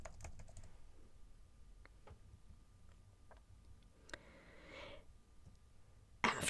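Faint, scattered clicks of keys on a computer keyboard, tapped irregularly and quietly in an otherwise hushed room.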